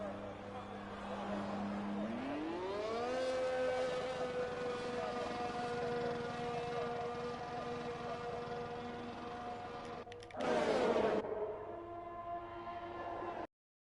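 McLaren race car in F1 2021 pitting at Azerbaijan, engine whine rising in pitch then holding steady for several seconds before a short burst of noise and abrupt cutoff.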